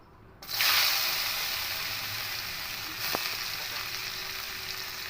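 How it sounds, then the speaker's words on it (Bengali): Coconut pieces hit hot oil with a sudden burst of sizzling that then settles into a steady, moderately loud frying hiss, with one brief clink partway through. "এবার এই তেলের মধ্যে নারকেলগুলো ভেজে নেব"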